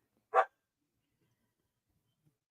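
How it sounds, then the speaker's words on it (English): A single short dog bark rings out near the start, then the rest is near silence indoors. "Don't get the dog barking."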